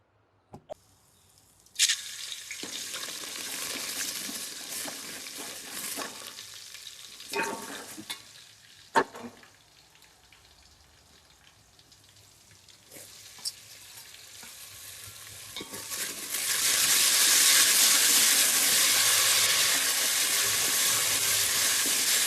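Spices for dal sizzle in hot oil, with stirring and scraping heard throughout. Near the end the frying swells into a loud, steady hiss. No one speaks.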